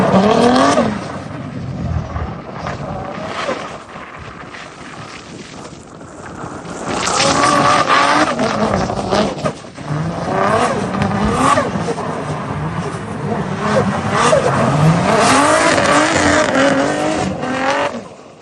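A pro drift car runs at a drift event, its engine revving hard and rising and falling while tires squeal through slides. The sound is loud, continuous and close.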